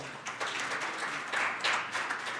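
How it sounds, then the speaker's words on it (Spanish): A church congregation breaks into applause, a soft, ragged patter of many hands clapping at some distance, swelling slightly in uneven bursts with no voice over it. "Denle un aplauso al Señor, por favor."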